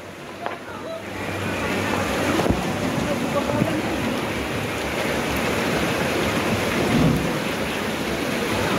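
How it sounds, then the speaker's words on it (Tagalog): Heavy typhoon rain from Typhoon Caring pours down in Capri, Quezon City, a dense, steady roar of downpour with deep rumbling beneath it, loud and unbroken from start to end. "Lumalakas pa yung ulan"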